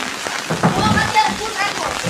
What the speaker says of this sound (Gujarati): જો વરસાદ આવે છે